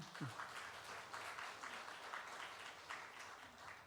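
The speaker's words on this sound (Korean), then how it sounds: "감사의 박수 드립니다" Church congregation at a Sunday service clapping in thanks, a soft, distant, evenly sustained patter of many hands with no speech.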